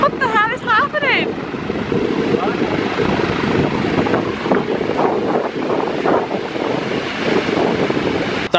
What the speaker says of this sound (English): Helicopter circling you.